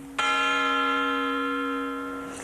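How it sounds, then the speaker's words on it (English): A single strike of Dunedin's old fire bell, newly mounted atop the municipal chambers, rings out loud and clear, its bright metallic tone sustaining and slowly fading over a couple of seconds. "Dunedin's old fire bell went back on top of the municipal chambers today"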